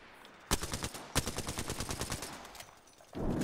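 Rapid automatic gunfire in the shooter game Apex Legends: a close, fast burst of evenly spaced shots lasting about two seconds, trailing off, with no talk over it.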